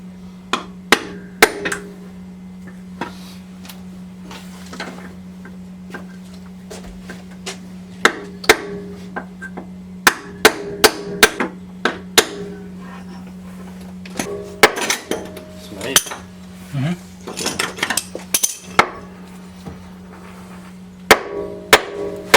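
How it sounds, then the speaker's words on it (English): Hammer blows on a vehicle's lower control arm bolt ring out as sharp metallic strikes in irregular clusters, some rapid and some spaced, over a constant low electrical hum in a workshop setting. "down there is the lower control arm bolt, and I'm just gonna hit it, and hopefully this thing drops"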